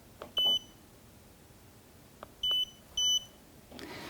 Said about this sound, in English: We can actually turn the beeping off.